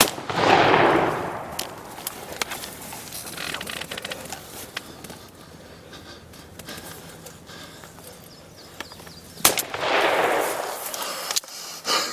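Two loud shotgun blasts during a Kentucky turkey hunt, one at the start and one near the end, each with a rolling outdoor echo and quieter rustling between them.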